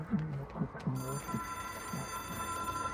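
An old-fashioned telephone rings in the video game Control, a shrill bell trilling in short bursts, with a low voice talking over it and a steady electronic tone underneath.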